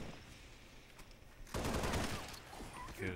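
Gunfire erupts in a Halo Reach free-for-all match, a sudden dense burst of rapid shots after a quieter opening, continuing loudly with clatter to the end.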